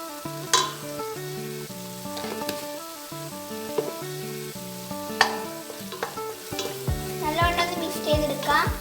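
Mandi masala and turmeric fry in a pan with onion for a fish mandi, a soft sizzle under repeated spoon stirs and clinks against the pan, close up, with a melodic music bed playing throughout.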